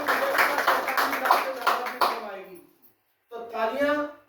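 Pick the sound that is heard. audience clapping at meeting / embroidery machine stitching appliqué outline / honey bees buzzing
audience clapping at meeting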